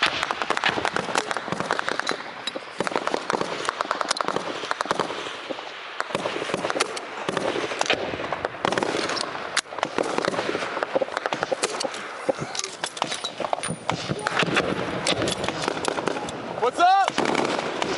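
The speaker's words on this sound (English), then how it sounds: "they're shooting at him from over there" Gunfire during a firefight in Afghanistan, fired from an M240 machine-gun nest: rapid, sharp cracks and bursts run continuously, loud and close, with voices talking underneath.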